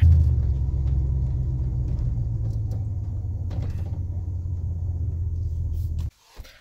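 A truck driving along a road while hauling a strapped-down salvage Dodge Caravan, heard from inside as a steady low engine and road rumble for about six seconds before cutting off abruptly, with no talking.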